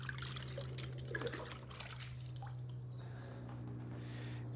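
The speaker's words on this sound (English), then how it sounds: "Let's rinse that out." Water rinsing dirt film cleaner off a car, heard as a soft trickle and splash of liquid over a low steady hum, fairly quiet and with no voices.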